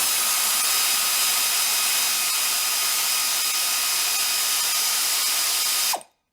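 A 5/16 thread tap is driven in reverse out of a hole in aluminum, a loud, continuous mechanical whir with a faint regular ticking that runs steadily, then stops abruptly near the end.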